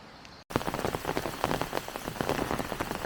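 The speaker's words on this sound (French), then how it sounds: "Voilà comment se termine cette journée sous une pluie mais battante." Heavy rain pours down, drumming densely on a surface with constant close spatters after a short quiet start.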